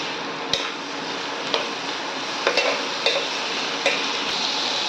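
Tomato and stomach stirred in a hot frying pan: a steady close sizzle with a spoon scraping and tapping the pan at irregular intervals, about seven knocks in five seconds, and no voices.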